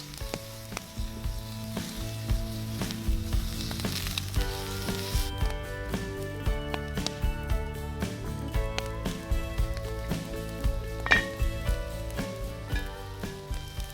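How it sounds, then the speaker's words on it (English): Steady, crackling sizzle of steak and garlic frying in a hot pan, continuous and close, with occasional utensil clinks and bursts of louder spitting. "You've got to love the sound of a sizzling steak"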